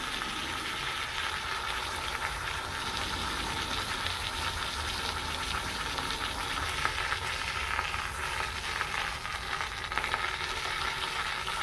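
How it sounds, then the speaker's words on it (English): A hot lost-wax casting flask for a ring tree sits submerged in water, boiling and sizzling with a continuous bubbling hiss that holds steady throughout. "It's still boiling underwater"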